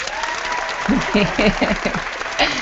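A single person's hand clapping for a guest on a live talk show comes through as a quick burst of close, loud claps, briefly mixed with talk.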